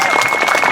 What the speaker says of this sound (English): So, yes, applause for you guys, right?